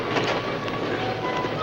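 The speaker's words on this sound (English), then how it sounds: "Sounds like a train now." An approaching train at a river trestle in a 1952 logging film, a steady broad rumble with faint rhythmic rail clatter and wind-like rush, continuous and fairly loud throughout, no voices.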